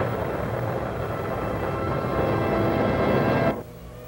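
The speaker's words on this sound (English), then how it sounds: "We have a liftoff." A rocket at liftoff gives off a dense, loud, continuous roar that holds steady for a few seconds, then cuts off abruptly.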